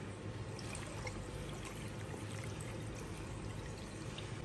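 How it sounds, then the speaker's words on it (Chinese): Water is poured into a wok holding fried pork intestines and hand-torn tofu skin, a steady close rushing pour that fills the whole stretch without talk. "然后加水"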